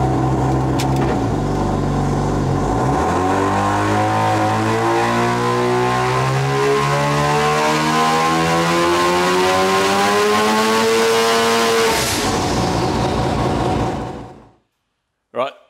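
A turbocharged car engine with no dump valves, running on a 35 hp nitrous shot, revs loud and close, its pitch climbing smoothly for about twelve seconds before cutting off sharply into near silence.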